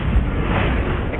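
A Bombarda spell explodes in Hogwarts Legacy, a brief, loud, full-bodied blast with a deep low thump that rumbles for about a second.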